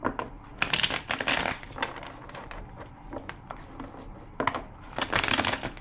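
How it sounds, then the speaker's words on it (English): Tarot cards being shuffled in quick riffling bursts, loud at the start and again near the end, with softer shuffling in between. "2 more shuffles."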